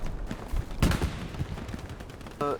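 Cannon and gunfire shots in a video game: a loud burst of sharp blasts near the start, then scattered shots over continuous game noise.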